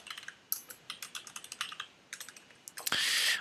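Close computer keyboard typing comes as quick, irregular key clicks in short bursts, ending with a louder clatter.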